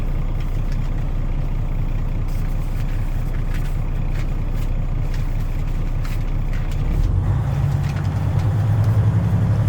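Truck engine idles loudly while the air brake system builds pressure, a steady low rumble that thickens near the end as the compressor works, with short hissing air bursts scattered throughout.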